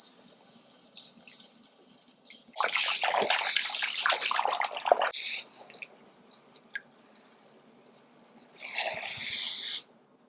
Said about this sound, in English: I'm going to start filling up my basin with warm water